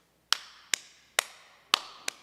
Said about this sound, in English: we're going to start with a refresher on our clapping